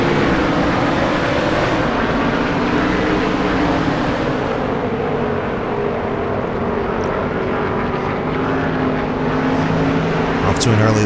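Stock car engines roar at the race start at New Hampshire in the PS2 video game NASCAR Thunder 2003, a loud, dense, continuous drone lasting throughout with a voice over it.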